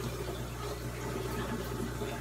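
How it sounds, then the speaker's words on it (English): Tap water runs steadily to fill small test vials, a constant close splashing rush over a low hum. "I will fill up the vials right now."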